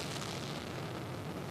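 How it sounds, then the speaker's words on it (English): A rocket with 20 engines explodes in the mobile game Simple Rockets 2, heard as a steady, dense roar of broadband rumble held for the whole moment, faint and without any talk. "Now that was an explosion and a half."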